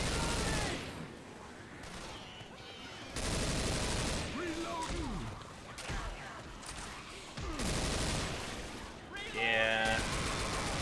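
SMG fire in Left 4 Dead 2 crackles in rapid bursts through a chaotic co-op firefight, with repeated volleys of gunfire, game effects and a voice talking over the action.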